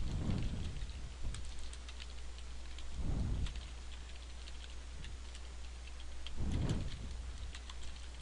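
Soft, steady clicking of a computer keyboard with a few heavier thumps, against a constant low hum and noisy background.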